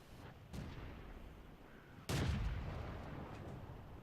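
Tank guns firing in the video game World of Tanks, with two booming shots, a lighter one followed by a heavier blast whose rumble lingers over steady battle ambience.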